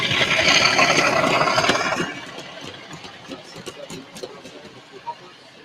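A train engine passes by on the track, a loud broad rushing rumble that fills the first two seconds, then drops away to a fainter clattering tail with scattered knocks.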